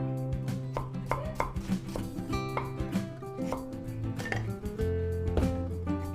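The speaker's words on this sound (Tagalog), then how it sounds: "nag-slice po ako ng luya" A knife slices ginger on a cutting board in a Filipino kitchen, a quick series of crisp, close chopping knocks in an uneven rhythm, with faint clinks between cuts and music underneath.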